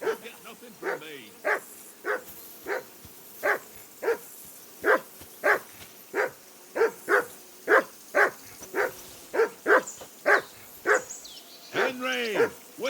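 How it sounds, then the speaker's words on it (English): A dog barks repeatedly in the video game Kingdom Come Deliverance II, a steady run of sharp, evenly spaced barks at close range, loud and mostly alone, ending with a drawn-out whine. "Whistle at that mutt of yours to stop barking."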